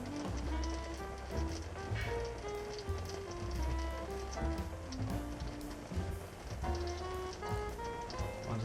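Automatic transmission fluid drips and patters from a loosened pan on a 1994 Ford Explorer A4LD, a steady rapid rain-like tapping onto a surface, close and continuous.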